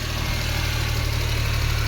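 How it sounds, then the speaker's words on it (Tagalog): A Suzuki DA52 with an F6A engine that misfires and lacks power idles close by. The hum is steady and low and throbs evenly, with no talking over it. "So andar na ang makina ngayon"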